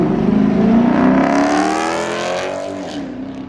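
A car at a street car meet cruise revs hard, its loud, close engine note climbing and holding steadily before easing slightly toward the end, with no talking over it.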